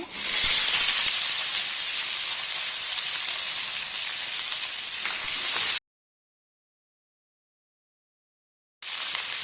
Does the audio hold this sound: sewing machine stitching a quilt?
no